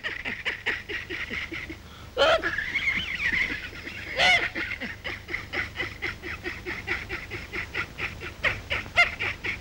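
A goose-like bird honks and cackles repeatedly in a fast, rhythmic series, loud and close, with two sharper, louder calls standing out partway through.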